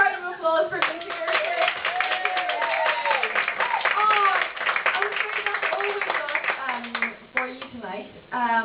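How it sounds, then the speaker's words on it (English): Audience clapping at a comedy night, a burst of hands applauding that swells and fades over several seconds while a voice talks over it near the end. "A big round of applause for me here."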